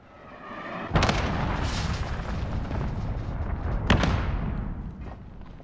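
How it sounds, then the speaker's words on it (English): Cruise missile strike in the Modern Warfare video game: heavy booming blasts land about three seconds apart over a continuous roaring, rumbling wash that slowly fades out. "Allied cruise missile away."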